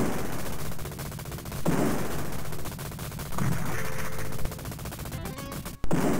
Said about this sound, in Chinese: 给了我一个机枪